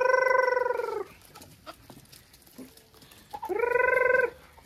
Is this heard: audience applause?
no